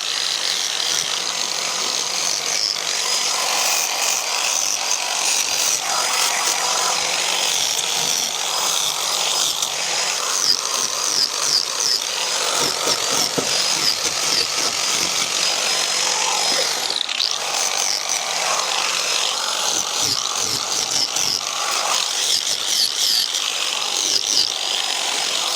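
Welding a replacement floor panel on an HQ Coupe: a steady, close crackling hiss runs almost unbroken for the whole stretch, with small flickers and short breaks, and no talking.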